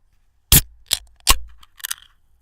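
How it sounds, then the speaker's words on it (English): A chilled 12-ounce can of Mountain Dew is cracked open close up, producing a sharp pop and fizzing hiss followed by a few brief clicks and a short rustle, all in an otherwise quiet room. "the joyous sound of an ice-cold Mountain Dew in a 12-ounce can being opened"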